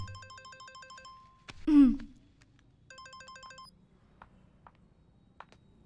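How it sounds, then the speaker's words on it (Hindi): A phone rings in a Hindi-dubbed action thriller film, giving two bursts of a repeating electronic ringtone melody. A sharp clink and a low thud fall between them, and faint clicks follow. "फोन।"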